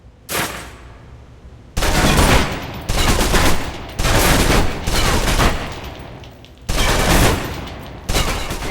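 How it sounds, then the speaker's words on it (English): Submachine gun from the game Alpha Protocol fires in loud, sustained bursts, several long volleys separated by short pauses, close and alone. "Now let's empty the clip. Let you get a feel for the recoil."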